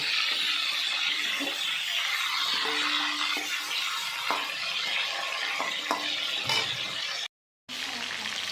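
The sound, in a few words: chicken pieces frying in mustard oil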